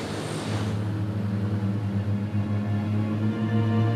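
A chartered airplane drones with a steady low engine rumble and hum, loud and continuous, with a broad rushing noise that thins after the first half second.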